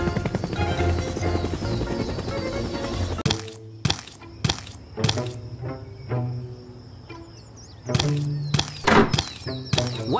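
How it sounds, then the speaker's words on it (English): Helicopter in a Minecraft animation, loud rotor chopping at first, then cutting to sparser scenes with sharp whacks and cracks over a lingering engine whine. "We are flying in a helicopter."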